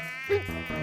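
A housefly in an animated cartoon gives a brief, close, tonal buzz lasting under a second, rising and wavering.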